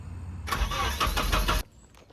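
Nissan 240SX engine cranking and catching after a wiring harness repair, a loud burst of starter churn and revving lasting about a second before dropping away to quiet.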